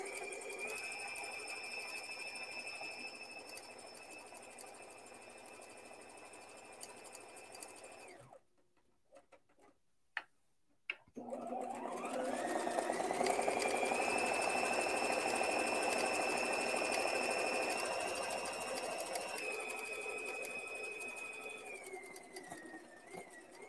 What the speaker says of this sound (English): you're supposed to do twice the zigzag. You stitch over twice.